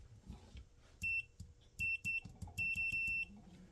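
Leolov MT2202 touchscreen multimeter giving sharp, high-pitched continuity beeps, a series of short bursts and a few longer tones in quick succession, loud and close over faint background handling noise.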